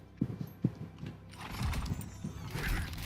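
A couple of hoof clops sound, then a horse whinnies, fairly close and moderately loud, in the video game Lost Ark.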